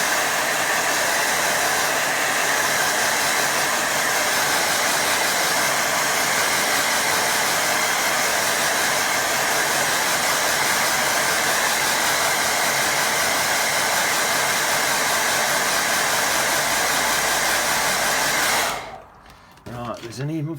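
A hair dryer blows steadily and loudly to dry a watercolour painting, a constant broadband roar lasting nearly the whole time before cutting off near the end.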